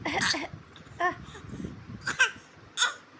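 A few short, raspy coughs from a small child, separated by brief pauses, fairly close.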